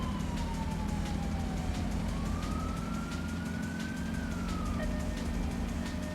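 A police siren in the racing video game Midnight Club: Street Racing wails in slow rising and falling sweeps over a loud, constant engine roar, with rhythmic ticking through the mix.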